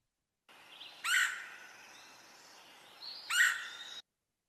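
Two harsh, shrieking bird calls in Kentucky woods, similar to a red-bellied woodpecker's quirr but rougher, each a sharp burst about two seconds apart, clear and fairly close against a quiet background.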